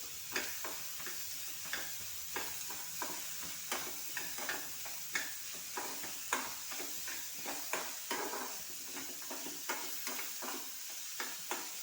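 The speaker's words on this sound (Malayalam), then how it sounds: "ഇത് ചെറുതായിട്ട് വഴണ്ട് വന്നതിലേക്ക് നമ്മൾ തക്കാളി ഇട്ട് കൊടുക്കുകയാണ്" Tomatoes sizzle steadily as they are sautéed in a pan while a utensil scrapes and taps in a regular rhythm, fairly quiet and close, with no voices.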